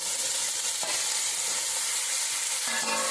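Cauliflower tossed into hot oil with frying onions and green chillies, a dense, loud, continuous sizzle up close with a few faint stirring knocks and no voices.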